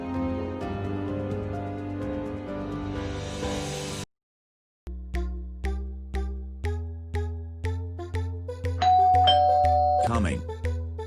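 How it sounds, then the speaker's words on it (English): A doorbell chimes, first a long sustained ring, then after a brief pause a string of repeated ding tones, with a warbling electronic tone near the end; loud and close. "Let's go and buy you a proper doorbell."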